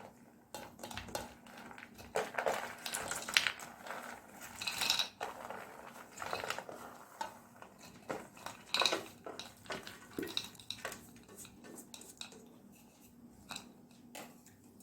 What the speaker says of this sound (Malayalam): നമുക്കിതെല്ലാം കൂടെ നമുക്ക് മിക്സാക്കി വെക്കാം